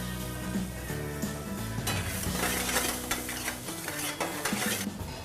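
Chopped onion with a pinch of salt sautés in a pan, a steady close sizzle broken by frequent stirring scrapes and clinks of a utensil against the metal.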